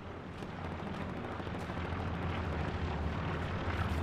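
Dense, rumbling barrage of bombing-run explosions on a Hell Let Loose battlefield, heavy booms blurring together into a continuous roar at moderate loudness.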